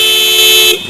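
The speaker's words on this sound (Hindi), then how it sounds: "ये रूट्स के हॉर्न है गाइस" A Roots aftermarket horn fitted to an old Honda Activa scooter blasts one loud, steady, high-pitched tone for about a second before cutting off.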